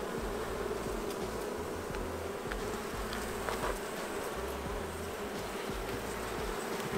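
A steady, dense hum of many honey bees buzzing close by during a hive inspection, continuous and unbroken throughout, with no voices.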